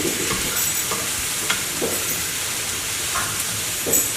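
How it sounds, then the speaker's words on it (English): Vegetables for a homemade vegan marinara sauce stirred in a pot, a steady sizzling hiss with repeated soft scraping strokes of the spoon, close and continuous with no talking. "he's going to give it all a good stir"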